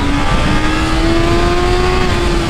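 A large motorcycle engine revs hard up close, a loud, continuous, steady roar with a rising whine and no talking.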